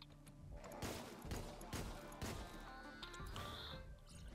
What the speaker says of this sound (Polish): bo zadałem trochę za dużo strzałów w niego